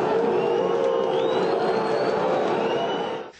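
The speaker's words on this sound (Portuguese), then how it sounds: "Vaias principalmente para os laterais Alex Silva" A football stadium crowd boos the full-backs, a sustained diffuse roar of many voices at a distance, steady and fairly loud throughout before cutting off at the end.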